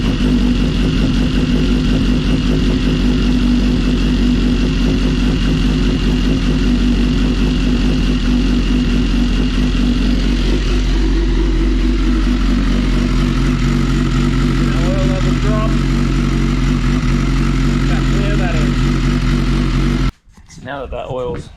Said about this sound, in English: we'll give the engine a bit of a start up in a sec and let it pump through